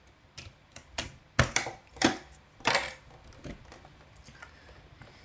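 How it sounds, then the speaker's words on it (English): A spacebar keycap is pried off a Ducky One 2 Mini keyboard, giving a string of sharp plastic clicks and clacks, loud at first, then fading to lighter taps. "So I'll just pick up the spacebar real quick."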